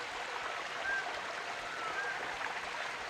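A waterfall-fed stream near a remote village flows in a steady, even rush of water, with faint bird chirps over it and no voices.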